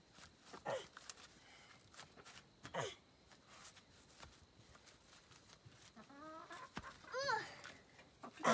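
A hen clucks and squawks in short, agitated bursts as she is chased outdoors, with scuffling footsteps and rustling between the calls, fairly faint overall.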